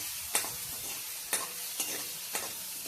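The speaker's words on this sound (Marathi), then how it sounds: "आता ही मिरची चांगली तळून घ्यायची" Red chillies fry in hot oil, giving a continuous soft sizzle broken by four sharp spatula scrapes against the pan, spaced roughly half a second to a second apart.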